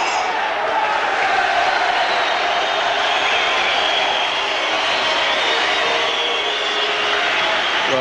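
Around 3,000 spectators packed into an ice rink in Cardiff for a boxing match roar continuously, a dense, loud, echoing wall of crowd noise without a break.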